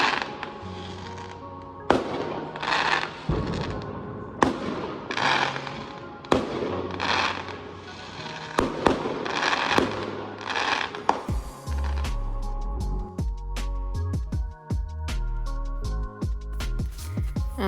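Fourth of July fireworks go off outside an apartment, a series of sharp loud bangs at roughly regular intervals, some distant, then a dense stretch of rapid crackling and popping toward the end.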